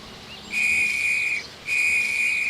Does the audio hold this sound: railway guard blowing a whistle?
yes